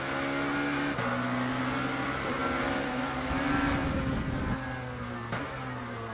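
Lamborghini V8 race car engine in the sim racing game Le Mans Ultimate at Imola, a steady loud droning engine note with gear-shift dips and rises in pitch, and no talking.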